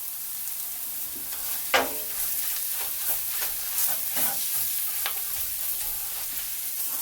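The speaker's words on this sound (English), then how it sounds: "Now to this add some curry leaves." Curry leaves dropped into hot oil with chili powder and coriander powder for a chicken gravy, giving a steady moderate sizzle broken by several sharp crackling spits and pops.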